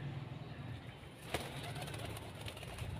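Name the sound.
pigeons cooing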